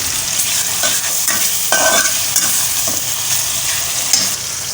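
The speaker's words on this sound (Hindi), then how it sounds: "ये थोड़ा सा मैं प्याज ब्राउन करने के लिए डाल रही हूँ" Onions frying in hot oil to brown for a paya chana curry, a loud, dense, continuous sizzle close by with faint stirring scrapes, no voices.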